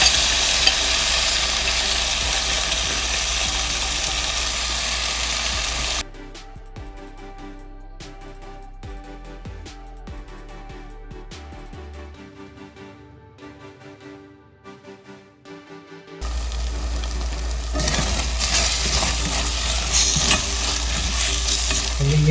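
Marinated beef with red onion stir-frying in a pan for a beef tenderloin dish, loud steady sizzle that cuts out midway to a quieter stretch of faint clinks and scraping, then the full frying hiss returns.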